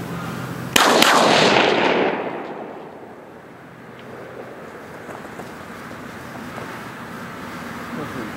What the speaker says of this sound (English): I'm gonna shoot off just a couple more rounds here